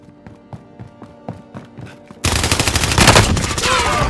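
Video game gunfire: a series of spaced single shots, then a sustained loud burst of rapid automatic fire with dense crackling rattles.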